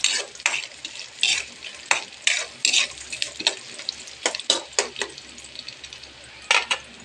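Food frying in a pan being stirred, with repeated scraping and clinking strokes of a utensil in an uneven rhythm over a faint sizzle, close and fairly quiet, no talk.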